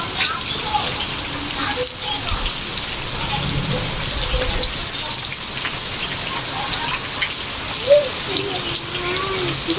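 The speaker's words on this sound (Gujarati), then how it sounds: "વરસાદ મસ્ત આવે છે" Heavy rain pours down in a Gujarat village, a loud, steady, dense hiss of drops hitting surfaces throughout, with faint voices underneath.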